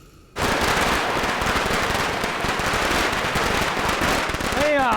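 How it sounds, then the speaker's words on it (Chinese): Firecrackers set off for a birthday celebration, a loud, dense, continuous crackling string of rapid bangs that starts abruptly after a short quiet moment and keeps popping nonstop to the end. "你过个生日还放炮呢？"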